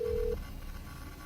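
A single telephone dialing tone sounds briefly and cleanly for about a third of a second, then cuts off, leaving a faint low hum.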